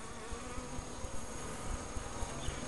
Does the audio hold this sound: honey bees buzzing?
yes